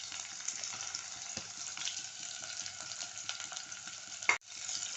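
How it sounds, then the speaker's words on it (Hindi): Onions fry in hot oil for a tempering, giving a steady close hiss and crackle with faint stirring scrapes, and a sharp clatter just before the end. "अब इसमें ना तेल गरम करके प्याज डालनी है"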